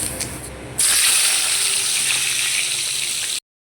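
Fish heads drop into hot oil in a wok and set off a sudden loud sizzle, which holds steady for a few seconds and then cuts off abruptly.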